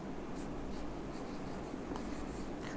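Chalk or marker writing on a board while solving geometry equations, a faint steady scratching with a few brief strokes, quiet and close, with no talk.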